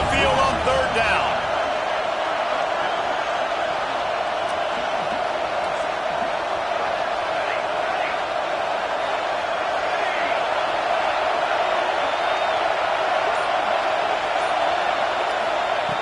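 Home crowd roars steadily at a college HBCU football game during a third-down defensive stand, a loud, continuous wash of cheering and noise with no break.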